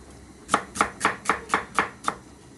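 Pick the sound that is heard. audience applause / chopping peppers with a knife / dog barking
chopping peppers with a knife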